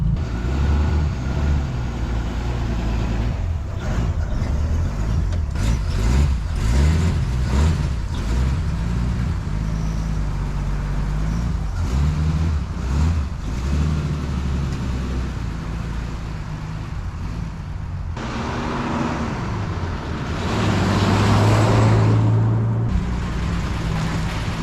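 A 1954 Plymouth Savoy being driven, its engine droning steadily with changing revs and road rumble, rising louder toward the end, with no talking.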